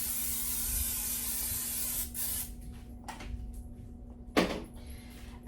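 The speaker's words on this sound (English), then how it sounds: "I am going to go ahead and spray it with some olive oil spray." A sharp hiss of olive oil cooking spray coats the inside of a medium crock pot, a long opening burst followed by a few shorter spritzes and a final quick puff, close and alone.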